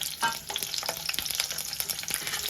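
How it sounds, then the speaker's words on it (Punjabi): Coarsely cut onions are frying in a kadai over a medium gas flame, giving a continuous close sizzle with crackles and scattered stirring clinks and scrapes. "ਮੀਡੀਅਮ ਫਲੇਮ ਤੇ ਆਪਾਂ ਇਹ ਪਿਆਜ਼ ਨੂੰ ਹਲਕਾ ਜਿਹਾ ਫਰਾਈ ਕਰ ਲਾਂਗੇ"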